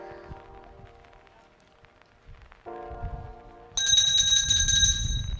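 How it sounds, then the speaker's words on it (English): A starting bell rings at a small tour show jumping event. It gives one bright, loud ring that sustains to the end over outdoor arena noise. "Here we go then, the bell's given."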